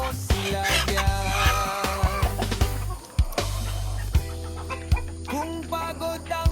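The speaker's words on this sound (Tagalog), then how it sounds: "Rhode Island at Black Australorp, tuka rito, tuka riyan." Rhode Island Red and Black Australorp chickens cluck steadily close by, a dense layered chorus of overlapping calls and squawks with no talking.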